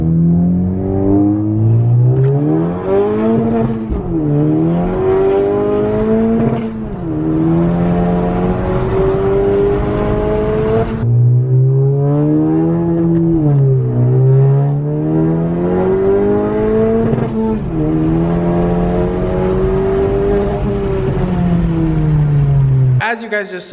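An RV6 car with a catless downpipe and front pipe runs loud and steady throughout, its exhaust drone rising and falling as the revs shift, with no break in the sound.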